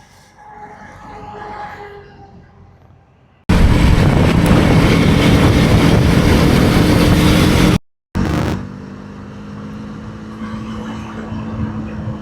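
A KTM Duke 250 motorcycle rides along a road on a day trip near Mumbai, its engine and wind roar surging loud and steady close by, then cutting out briefly before a quieter running drone returns.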